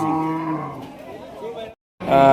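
At a cattle market in Rajshahi, Sahiwal, local and crossbred cows and heifers give a loud, drawn-out moo, a short silence, then another close, harmonic moo.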